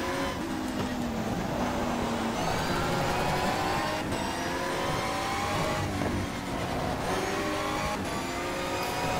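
A race car engine roars at full throttle in GTR 2 on the Vayline International Raceway in Germany, a loud, steady high-pitched drone with rising gear sweeps and brief dips at shifts, continuous throughout with no talking.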